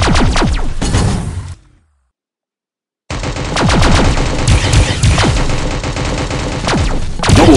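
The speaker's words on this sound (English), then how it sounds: "Oh, brand new rifle, by the way. It's the Warmonger rifle." Rapid automatic fire from the Warmonger rifle in a first-person shooter game, dense loud bursts that stop for over a second, then resume in a long sustained volley through to the end.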